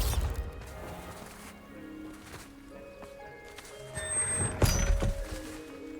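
A heavy thudding crash from the Bombarda blasting spell impact in the Hogwarts Legacy video game, with a low rumble and a second sharp hit, set against a musical game background.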